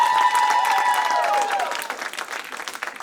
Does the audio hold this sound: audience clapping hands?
yes